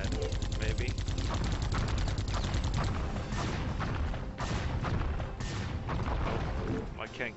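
Rapid gunfire from the video game Geist, a dense continuous stream of shots with booms and mechanical clatter, loud and close, while players talk over it.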